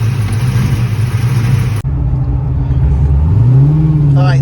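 A Pontiac GTO on a test drive, its engine droning loud and steady, cutting off briefly then holding a low rumble before the pitch climbs as it accelerates.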